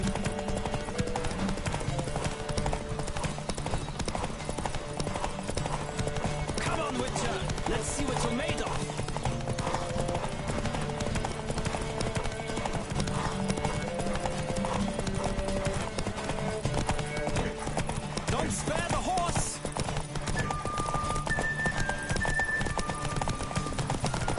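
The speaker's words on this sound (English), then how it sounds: "Don't spare the horse!" Galloping horse hooves pound in a rapid, steady rhythm throughout in The Witcher 3, with an occasional whinny, set against a busy background of music and effects.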